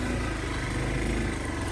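A motorbike engine runs steadily on an overgrown forest path, a constant close drone with a low rumble throughout.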